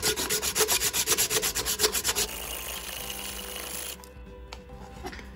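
Rapid rhythmic rasping of sandpaper rubbed back and forth on the wooden handle of a traditional Russian kosar knife by hand, about a dozen quick strokes close up, then a quieter scraping that fades away.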